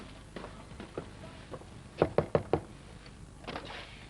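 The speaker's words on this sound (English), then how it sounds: "they might not even hear the bailiff knocking at the door" Knocking at a door during a visit from a bailiff: a quick burst of four firm, close raps at the centre, set among softer scattered taps and thuds, with no speech.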